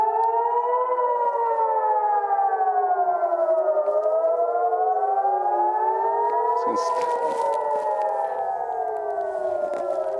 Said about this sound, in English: I can hear sirens in the distance and now all around us as well.